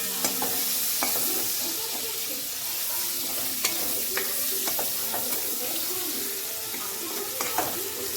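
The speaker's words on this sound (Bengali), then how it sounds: "চিংড়ি আর আলুগুলোকে তোমরা এরকমভাবে ভেজে নেবে" Prawns and potatoes fry in a pan with a continuous close sizzle, broken by repeated sharp clicks and scrapes of a spatula stirring against the metal.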